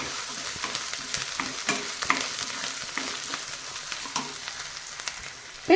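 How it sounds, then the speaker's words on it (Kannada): Ginger garlic paste frying for a capsicum gravy, a constant close sizzle with frequent soft scraping strokes from a spatula, no one speaking. "ಹಸಿ ವಾಸನೆ ಹೋಗೋವರೆಗೂ ನಾವಿಲ್ಲಿ ಫ್ರೈ ಮಾಡ್ಕೋಬೇಕಾಗತ್ತೆ"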